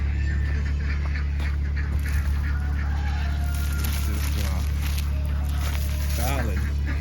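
Ducks quack repeatedly on a farm after an ice storm, with bursts of calls over a steady low hum and a person talking nearby.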